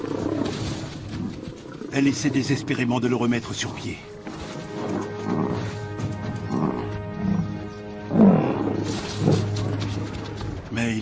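Lions in South Africa roar and growl while attacking a buffalo, with a low bellowing burst near the end, all under continuous narration.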